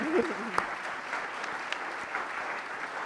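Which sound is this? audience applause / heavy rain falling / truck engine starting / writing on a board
audience applause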